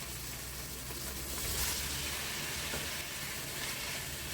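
Steady, dense sizzling of tomatoes frying in a hot pan, a constant crackling hiss that swells slightly midway.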